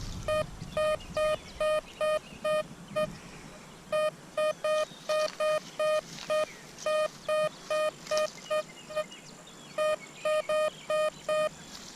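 Repeated short electronic beeps from a Blisstool V6 metal detector target signal in a steady rhythm, a bright tonal pulse over faint outdoor ambience, pausing briefly and resuming.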